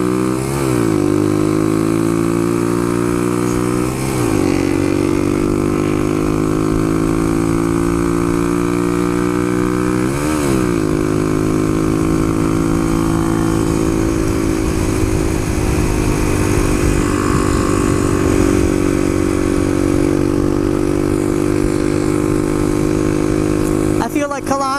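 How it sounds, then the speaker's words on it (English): A Suzuki DR-200 motorcycle engine runs close by at a steady, loud idle-like drone, with a few quick revs that rise and fall at about 1, 4 and 10 seconds, heard continuously for nearly 25 seconds. "You can tell there's a lot of torque with this bike."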